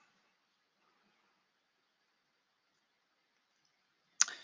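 A single sharp click of a computer mouse comes close up near the end, after several seconds of near silence.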